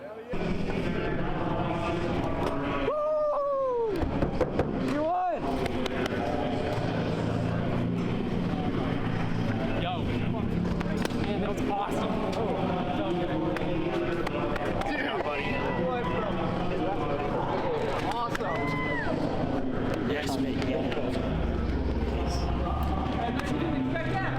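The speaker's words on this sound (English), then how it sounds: "were spoiled with the sounds of Celso Neto revving his race car into here for celebrations" A race car engine revs and whines with rising and falling pitch, loud and continuous, while a voice talks over it.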